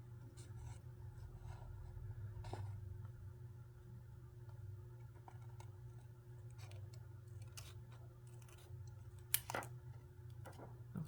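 Scissors cut paper for a craft project, a faint series of short snips and rustles scattered through a quiet room with a steady low hum underneath.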